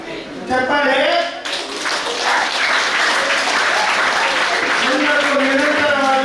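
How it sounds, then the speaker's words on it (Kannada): School audience at a flag-hoisting ceremony applauding, a loud dense roar of many hands clapping together that rises and holds steady, with a voice briefly heard over it at the start. "ಚಪ್ಪಾಳೆ"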